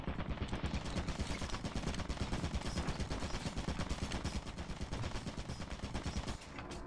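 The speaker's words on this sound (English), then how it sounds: "It's been getting shot by the turret." Turret in a video game firing nonstop, a dense rapid stream of gunshots that stays loud and constant throughout.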